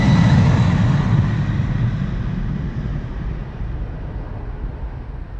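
A 34-year-old Boeing 767-300 airliner, registration N642UA, departs Amsterdam Schiphol for Washington, its engines a loud, broad roar that is strongest at first and then slowly fades as it moves away, with no voices.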